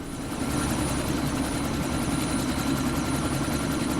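Helicopter in the Deus Ex video game spooling up for takeoff: a loud, steady rotor and turbine roar with a constant low thrum and a thin high whine, close and continuous throughout.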